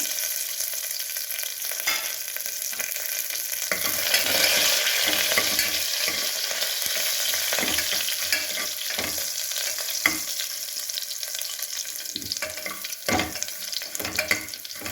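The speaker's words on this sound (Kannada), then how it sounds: "ಚಟ್ಪಟ ಅಂತಿದ್ದಾಗೆ ಬೆಳ್ಳುಳ್ಳಿ ಹಾಕಿದೆ, ಕರಿಬೇವಿನ ಸೊಪ್ಪು, ಒಣಮೆಣಸು" Garlic, curry leaves and dried red chillies dropped into hot oil after mustard seeds splutter, for a Karnataka bassaru: a loud, steady close-up sizzle with crackles and occasional stirring clinks, running continuously with no talking.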